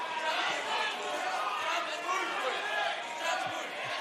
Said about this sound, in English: you can hear the crowd is still piling in